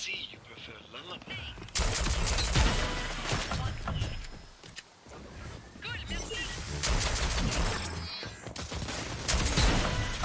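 Tactical shooter video game gunfire with several loud bursts of rapid shots separated by short quieter gaps, close and sharp, with faint talk mixed in.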